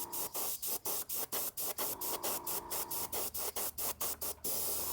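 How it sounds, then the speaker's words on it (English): Short repeated bursts of an airbrush or spray can laying down orc skin paint on miniatures, about a dozen quick hissing puffs in an uneven rhythm, close and fairly loud, with no talking. "we'll start spraying some shadows here"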